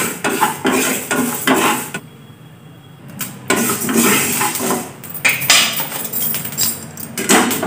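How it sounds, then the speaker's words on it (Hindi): Fenugreek seeds are dry-roasted in a pan, with loud, close scraping and rattling from stirring in repeated bursts, broken by a brief quieter pause partway through. "सबसे पहले हम मेथी को भून लेते हैं"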